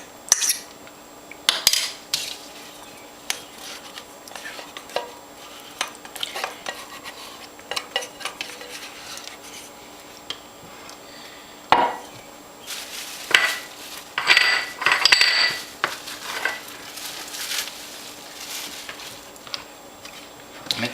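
Flour, salt and yeast being stirred together in a bowl for rustic bread dough, with intermittent scraping and clinking of a utensil against the bowl, close and irregular, now and then under a speaking voice.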